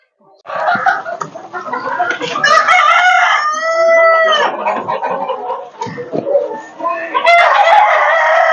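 Sonali hens and a rooster on a poultry farm, with a loud rooster crow standing out over constant nearby clucking and cackling from the flock.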